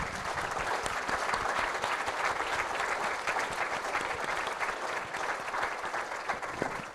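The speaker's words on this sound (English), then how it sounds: "Can we give them a round of applause?" Sustained audience applause fills the room after a panel discussion at an archdiocesan convocation, steady and dense throughout with no voices on top.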